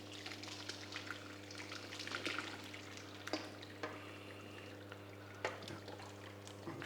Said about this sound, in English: We've got the colander, got a saucepan underneath, and we're just going to pour it in there.